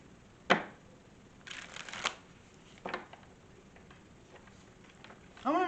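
Tarot cards being shuffled in short bursts, crisp riffling flutters at a close, quiet level with pauses between, and a brief voice sound at the very end.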